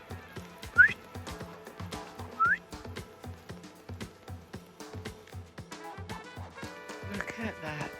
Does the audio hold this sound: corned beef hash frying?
no